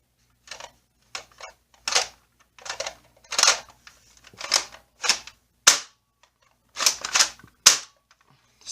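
A modified Jumpzone Renegade toy shotgun fires and racks, giving a series of sharp close snapping clicks and cracks spaced irregularly across the clip, with no talk.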